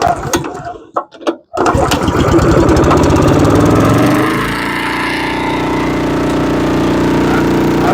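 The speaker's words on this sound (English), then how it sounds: "going to crank this air compressor too" After a few brief knocks, an air compressor motor starts up and runs loudly and steadily nearby, its pitch settling into a constant drone.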